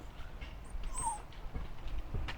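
A dog at an old village house in Tummalapalli, East Godavari, gives a brief, thin whimper over a quiet, low background rumble.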